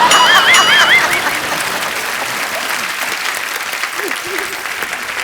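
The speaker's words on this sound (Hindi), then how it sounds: "जोरदार तालियां" Loud audience applause and cheering in a studio for a comedy talk show, dense clapping throughout with a brief whistle-like squeal near the start, fading slightly but steady to the end.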